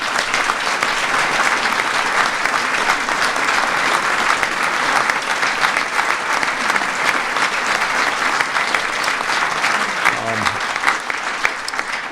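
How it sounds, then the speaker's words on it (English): Loud, dense applause from an audience at a presidential bill signing ceremony, continuous and even throughout with no letup. "Please give them a big round of applause."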